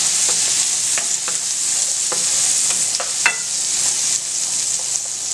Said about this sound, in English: Then I'm gonna add my onion to that. Stir that around in there for a minute or so.